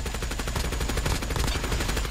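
Rapid automatic gunfire from a hipfiring gun in Call of Duty Mobile, a dense continuous burst of shots that stays loud and steady with no talking.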